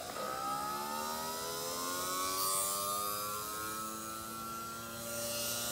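A small motor spinning within a magnetic field, a steady whir with tones that slowly rise as it speeds up, fairly faint and continuous with no talking.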